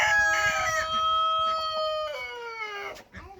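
Chickens, including a rooster, crow loudly and close, one long drawn-out crow with clucking underneath that fades at the end.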